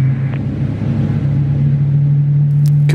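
Airbus A300-600R engine number one spooling up in a flight-simulator cockpit, a steady loud low hum with a droning tone that holds throughout, with faint brief clicks near the end.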